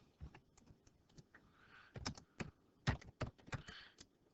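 Quiet keystrokes on a computer keyboard come in a short irregular burst of about a dozen taps, close by and heard alone.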